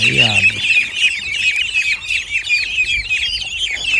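A crowd of ducklings peeps continuously in high, shrill calls, close and loud, with a brief voice at the very start.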